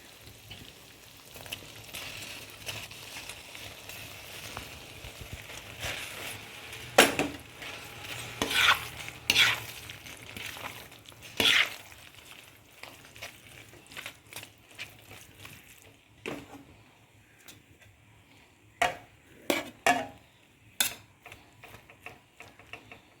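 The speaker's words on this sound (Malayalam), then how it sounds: "ഈ ചോറ് നമ്മുടെ ഈ തക്കാളി കൂട്ടിലേക്ക് ചേർത്ത് കൊടുക്കാം" A spoon scrapes and clinks through cooked rice as it is stirred into a tomato mixture in a pan, with irregular close knocks and scrapes over a quiet background hum.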